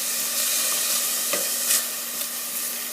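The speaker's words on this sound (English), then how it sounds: "So basically we're frying up some hamburger" Half a pound of ground beef hamburger fries in a pan with a steady, close, bright sizzle and hiss that holds for the whole stretch, with faint scraping pops and no voices.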